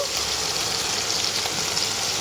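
Food frying in a pan over lowered heat, a steady close hiss that runs unbroken and evenly loud throughout, with no talk.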